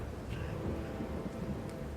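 Steady rain pours with a deep rolling rumble of thunder beneath it, a dense continuous wash of noise filling a video game scene.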